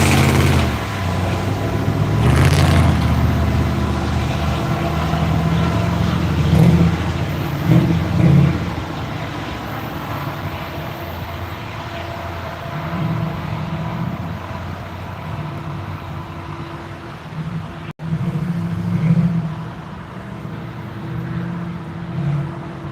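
CSX pusher diesel locomotives work hard shoving a two-mile-plus freight train at Cowan, a steady loud engine roar and rumble that persists throughout, with swelling throbs and wind-like exhaust noise.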